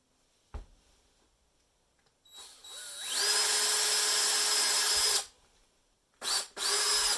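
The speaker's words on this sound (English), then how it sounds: "I'm going to start off by drilling a little pilot hole all the way through" Cordless drill with a 1/8 inch bit boring a pilot hole through pipe: a click, then the motor spinning up to a steady whine for a couple of seconds, stopping, and two shorter bursts.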